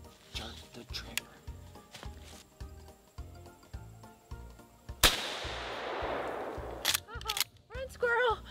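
A single sharp rifle shot rings out during a squirrel hunt, cracking loudly and trailing off in a long echo. Rhythmic rustling footsteps or movement come before it, and a voice speaks between the sounds.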